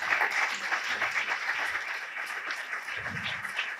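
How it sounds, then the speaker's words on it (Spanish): An audience at a talk on the paintings of Albacete Cathedral welcomes a speaker with applause. The steady clapping is faint and distant. "vamos a recibirle con un fuerte aplauso"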